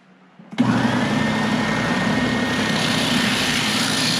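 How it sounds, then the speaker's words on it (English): A Bauer (Harbor Freight) oscillating sander working reclaimed pallet wood switches on abruptly after a quiet moment, then runs at a loud, steady, buzzing whine. "this material can be thrown by this sander, just like any sander can"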